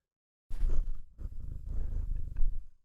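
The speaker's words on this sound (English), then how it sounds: "she's going to purr into the microphone" A pet cat named Annie purrs close to a microphone in a steady, rumbling run of breaths, starting after a brief silence and continuing for a couple of seconds with slight pauses between breaths.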